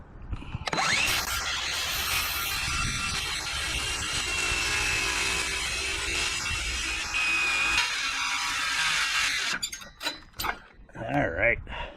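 A power saw cuts a wooden piece for a sliding door, a loud sustained whine lasting about nine seconds, then the saw spins down and voices follow at the end.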